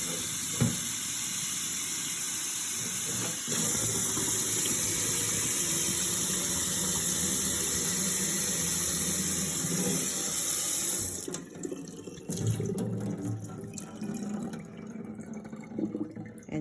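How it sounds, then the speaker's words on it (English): Tap water hisses steadily from a faucet to rinse alfalfa sprouts, a continuous close rush that shifts in tone partway as the stream hits the container, with no talking. "Gonna do the same thing as we've done each day of rinsing the sprouts out."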